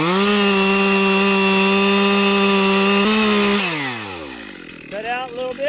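A chainsaw cutting a white pine tree, its engine screaming at a steady high pitch close by, then dropping and bogging down as the cut finishes before revving briefly again.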